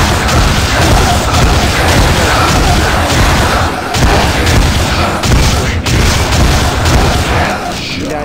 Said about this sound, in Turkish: Etkinlik göreviymiş zaten bomba kullanmak.